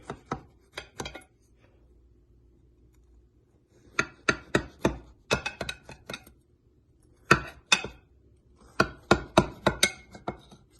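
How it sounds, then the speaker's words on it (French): A knife cuts pieces from a moist chocolate walnut cake. Several close, crisp clusters of taps sound as the blade meets the board, separated by short quiet gaps, with no talking. "je vais couper un morceau"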